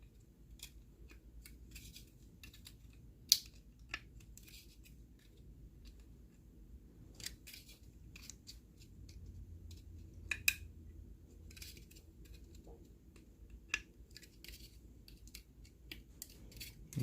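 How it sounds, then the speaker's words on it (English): Scissors snipping through a thin aluminum can, a string of quiet, sparse clicks and crisp cuts against a hushed background. "try not to cut yourself. This is a aluminum can after all."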